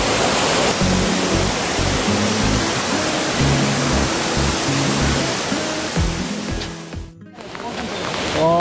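Yeonsan waterfall on Naeyeonsan mountain roars as a dense, steady rush of falling water, loud and close, with a brief dip near the end.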